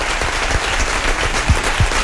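Audience applause at a Thinking Party 2012 event session, a dense steady wash of clapping held at an even level through the short stretch, with a few low thumps standing out near the end.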